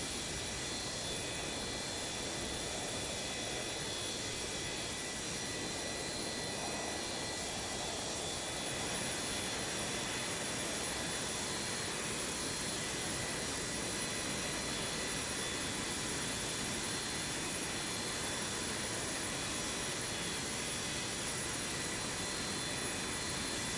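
Boeing 727 jet engines idling steadily in Microsoft Flight Simulator 2024 as the airliner rolls to a stop, a continuous broadband roar with a constant high whine, unbroken for the whole stretch.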